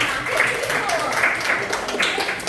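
Classmates clapping in a classroom guidance session, a short burst of moderate group applause with a voice heard over it.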